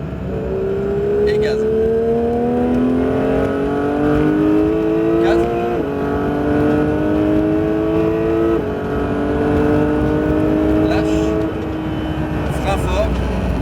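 A Porsche 911 GT3 engine accelerates hard on a race circuit, its pitch climbing in steps through gear changes, loud and close, with a voice speaking over it.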